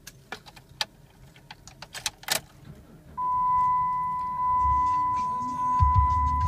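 A 2011 Ram Dakota 4WD extended cab truck starting up: light key clicks and a warning chime, then the engine cranks and catches into a steady idle that swells slightly toward the end.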